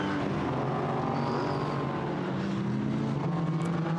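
GT4 race cars sweep around the Nurburgring circuit, their engines blending into a continuous, steady roar of mixed revs that stays at an even loudness throughout, with no voices.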